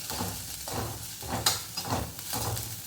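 Chopped spring onion is stirred in a sizzling pan, with several rhythmic scraping strokes over a low frying hiss, close and fairly quiet, with no talk.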